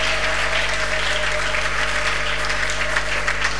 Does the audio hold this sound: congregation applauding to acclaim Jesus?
yes